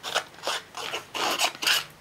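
Scissor blades scraped along the edges of a paper tag to distress it, five or six short, close rasping strokes in quick succession with brief pauses between.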